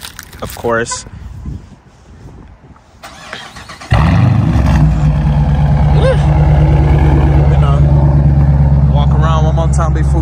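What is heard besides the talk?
Dodge Challenger RT engine with no resonators, warm start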